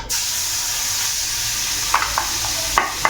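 Koi fish sizzles steadily in hot oil in a pan, a continuous frying hiss with a few brief sharper crackles and stirring clinks toward the end; no talking.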